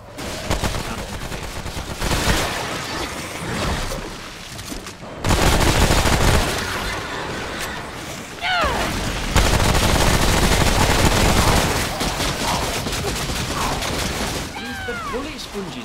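Loud, dense gunfire in the video game Remnant from the Ashes, sustained bursts and rapid shots with impacts and creature sounds, continuing almost nonstop across the stretch.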